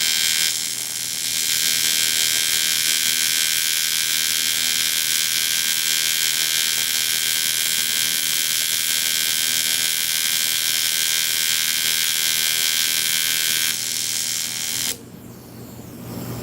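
A TIG welder tacking metal produces a loud, constant electric buzz with dense harmonics, holding steady for about fourteen seconds before cutting off abruptly into quieter background noise.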